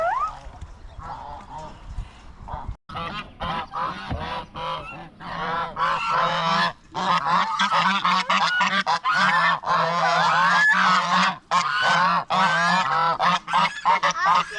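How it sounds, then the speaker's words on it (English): Chinese geese on a New Zealand farm honking loudly and repeatedly, overlapping nasal calls coming close together in a near, busy chorus. "Chinese geese over here"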